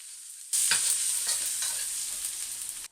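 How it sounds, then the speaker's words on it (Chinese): Minced ginger and garlic hit a hot wok with a sudden loud sizzle, then keep frying steadily under light stirring for a couple of seconds before the sound stops abruptly. "加入姜末、蒜末炒香"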